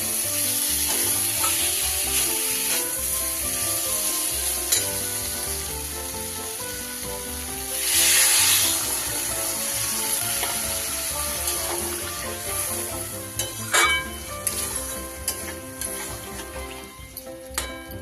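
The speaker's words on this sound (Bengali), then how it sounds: "সব একসাথে ভালো করে মিশিয়ে নিয়ে এবার আমি জল দিয়ে দেব।" Water poured into a hot pan of spiced tangra fish curry, producing a loud sizzle and a brief hissing burst, followed by bubbling and a few utensil clinks.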